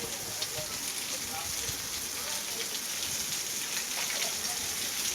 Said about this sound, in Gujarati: વરસાદ બંધ થવાની જગ્યાએ સતત વધી રહ્યો છે